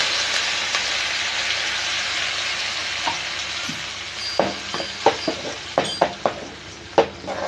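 Ground tomato paste is poured into a hot pan with curry leaves and urad dal. It sizzles and fries steadily throughout, and a series of sharp spoon clinks and scrapes near the end mark the stirring.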